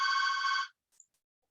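A telephone bell rings once in a home office, a bright electronic trill lasting under a second and then cut off, followed by a faint click in near silence.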